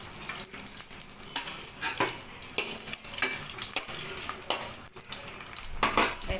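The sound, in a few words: frying dry fruits in ghee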